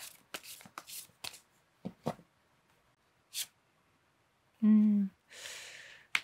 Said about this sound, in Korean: 카드 오라클 카드 2장을 뽑아보도록 하겠습니다